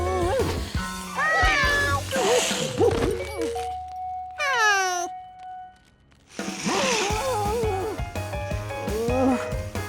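A cartoon cat in the animated Curious George series gives several pitched, wavering meows, then a short quiet gap with a sliding squeaky tone, before more meowing.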